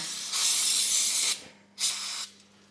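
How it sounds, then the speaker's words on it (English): Two bursts of brake parts cleaner from an aerosol can sprayed onto a slave cylinder of a Magura HYMEC bicycle hydraulic clutch, a long hiss of about a second followed by a shorter one, close and loud. "a little bit of brake part cleaner, just to make sure that everything is clean."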